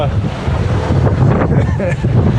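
Big ocean waves and strong wind buffet a sailing boat in rough seas, the loud roar of wind across the microphone blending with surging, splashing water throughout.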